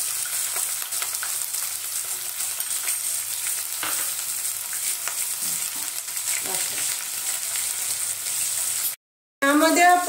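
Finely chopped onion, added after garlic, sizzles and fries steadily in a pan of hot oil for matki aamti, with stirring scrapes throughout, a brief silence near the end, and then a voice.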